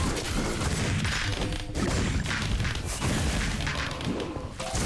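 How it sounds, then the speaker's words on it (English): Dense, continuous booms and crashing blasts from explosions and fireworks in the video game Minecraft Dungeons during four-player co-op, loud and sustained with little letup. "The explosion."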